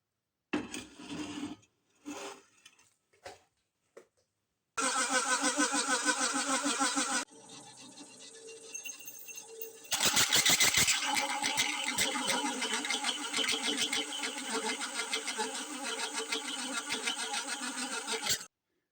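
Drilling holes in scrap steel for a tractor chain mulcher frame in a workshop: a few short bursts, then long, loud, close grinding stretches with a rasping, rattling texture and a brief lower-pitched pause between them.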